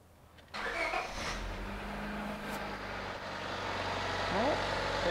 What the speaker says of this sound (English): Now we're gonna go ahead and start the engine up now.